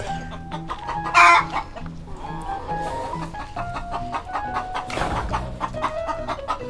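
A hen clucks loudly and repeatedly from close by inside a coop, with one sharp squawk early on and more agitated clucking later, and no one speaks.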